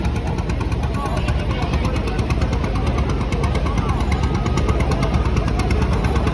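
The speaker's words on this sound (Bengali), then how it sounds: "একটি ট্রলার আসতেছে যাত্রী নেওয়ার জন্য দেখতে পাচ্ছেন।" A trawler boat's engine runs with a steady, loud, throbbing drone as it approaches to pick up passengers, and a voice speaks over the constant noise.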